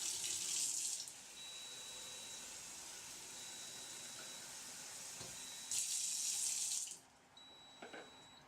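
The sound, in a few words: tap water running into cistern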